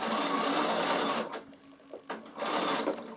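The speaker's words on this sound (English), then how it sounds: "You're going to start off by sewing on a piece of fabric." Bernina sewing machine stitching a piece of fabric, with two close bursts of rapid whirring stitching separated by a short pause.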